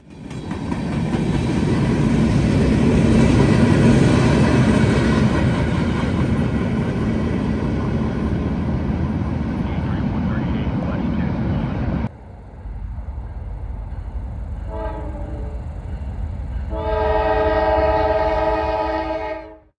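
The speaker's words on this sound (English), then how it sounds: "Loaded ethanol train B651 heads southbound at Linworth." A loaded CSX ethanol freight train, B651, runs southbound past Linworth in Ohio, a long, loud, steady roar of wheels and engines up close that cuts off abruptly, followed by a few short horn blasts and then one sustained blast.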